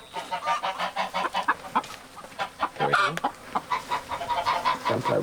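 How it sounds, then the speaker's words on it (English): A flock of ducks on a rural Australian outback homestead quack and honk in rapid overlapping bursts, close and loud, with some calls rising in pitch. "Don't play with the ducks."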